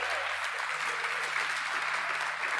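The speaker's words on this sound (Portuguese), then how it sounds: "aplauda forte ao Senhor." A church congregation claps for the Lord in a brief, steady burst of applause, moderately distant, with a low sustained hum running underneath.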